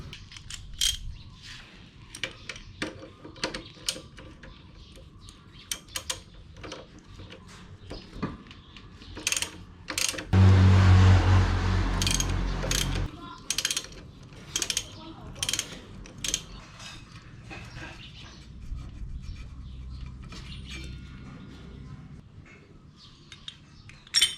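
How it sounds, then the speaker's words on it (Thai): A socket wrench ratchets on a bolt at the front brake of a Honda Wave 125i motorcycle, with repeated clicking turns nearby and a short burst of steady louder noise partway through. "บล็อกเบอร์แปดนะครับขันตรงนี้นะ"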